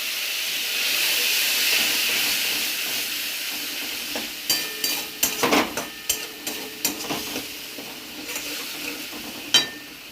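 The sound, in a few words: frying spices with a little water for katla fish curry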